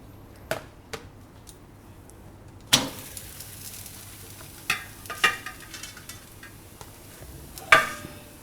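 Tikkad roti, a Rajasthani flatbread, slowly roasting on a pan over low gas, with faint sizzling and occasional sharp scrapes and taps of the bread being turned, spaced irregularly across a quiet background.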